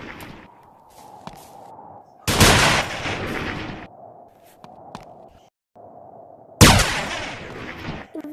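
Gunfire in a player-versus-player match of the Monkey Labs video game: two loud, sharp bursts of shots several seconds apart over a faint, steady background hum.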